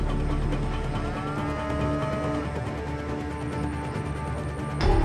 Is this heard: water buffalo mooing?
yes